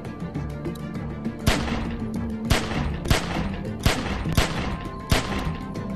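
Gunfire in The Walking Dead video game sounds as a string of sharp, separate shots at irregular intervals over a dense, steady background of game ambience and music.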